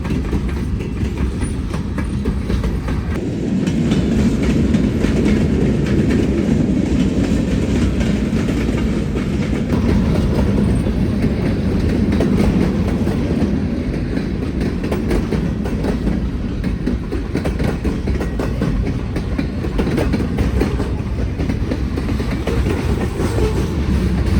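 A long freight train rumbles steadily past nearby, with a continuous low roar and rhythmic clattering of wheels on the rails throughout.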